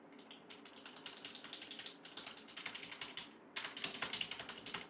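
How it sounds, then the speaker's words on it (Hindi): Fingers type steadily on a keyboard connected to an iPad Pro, producing quiet, rapid key clicks in continuous bursts that grow slightly louder toward the end. "अब मैं इससे टाइप नहीं कर रहा, अब मैं इससे टाइप करूँगा।"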